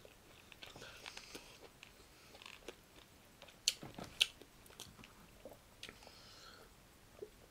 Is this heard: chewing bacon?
yes